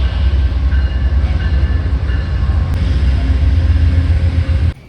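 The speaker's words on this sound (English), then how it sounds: "Here's my train." Loud, steady rumble of a train idling or moving slowly, with a continuous low drone and faint squeals, ending abruptly.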